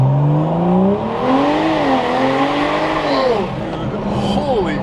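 A tuned Lexus LS 430 with custom exhaust, transmission tune and E30 fuel accelerating hard in a power slide, with a loud rising, shifting engine wail and tire squeal up close, while people talk over it.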